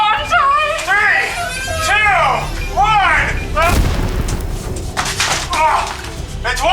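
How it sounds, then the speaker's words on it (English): A staged bank-vault explosion in a home box-fort game goes off as a single loud broadband burst near the middle, surrounded by excited children's voices and play noise, with people talking and shouting before and after. "It works! The explosion!"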